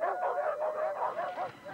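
Dogs bark in a Subaru Outback commercial, a quick run of loud, close yips and barks repeating rhythmically over under two seconds, with a faint voice beneath.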